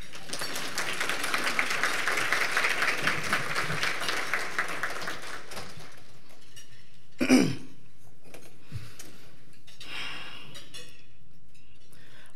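Audience applause at a scholarship luncheon, a broad wash of clapping filling the room for several seconds before fading out, followed by a sharp thump, a cough and scattered small noises in the quieting hall.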